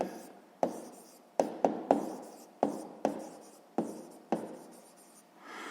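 A pen writes a distance figure into a sixth-grade maths exercise, a string of short scratchy strokes and taps, each followed by a brief scrape, close by and fairly quiet with no speech.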